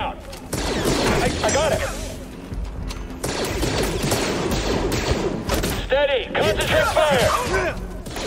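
Blaster fire in the Jedi: Fallen Order video game, rapid shots and impacts against a target amid chaotic combat effects, with a voice calling out over the noise.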